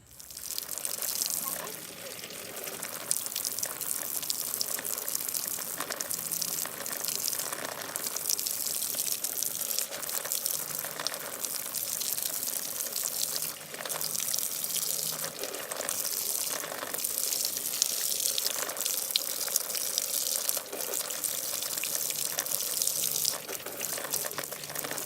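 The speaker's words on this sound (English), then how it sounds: "also known as a water hose." Water from a garden hose pours onto a model riverbed of dirt and rocks outdoors, a continuous rushing gush that stays loud and close for the whole stretch, with faint voices now and then.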